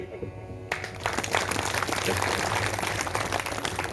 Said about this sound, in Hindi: तो ताली कर